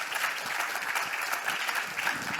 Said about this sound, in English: Let's give them a big round of applause to thank them.